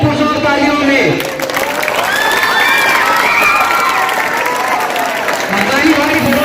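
Audience applause at a school annual function, a dense wash of clapping that runs steadily throughout, mixed with crowd noise, cheers and overlapping voices.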